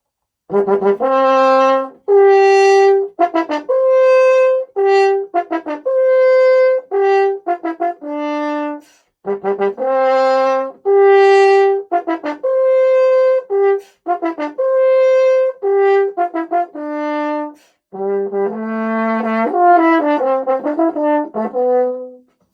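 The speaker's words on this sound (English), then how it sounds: "So that's the sound of a French horn." A solo French horn plays a slow, clear melody in loud, sustained phrases separated by brief pauses.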